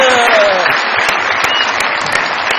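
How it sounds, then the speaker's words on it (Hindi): A studio audience at a Pakistani comedy TV show claps steadily and fairly loudly for a prize winner, a continuous burst of applause with faint background voices. "आप सब लोगों की बहुत सारी तालियों में"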